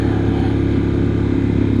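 A 2023 Harley-Davidson Pan America engine braking on a dark mountain road at night: a loud, steady, close engine drone with a throbbing low rumble and no pauses.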